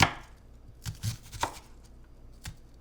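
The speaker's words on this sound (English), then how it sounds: "I personally, when I'm mincing them, like to do this little crossways checkerboard type of cut and then slice through it a little bit." A knife minces an onion with crossways cuts on a cutting board, giving about five sharp, close chopping knocks spaced unevenly over a few seconds.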